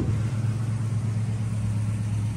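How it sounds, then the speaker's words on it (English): A 1972 Chevelle SS tribute with a manual transmission runs at a steady idle, giving a close, even, deep rumble with no breaks and no one speaking. "Listen to that engine purr."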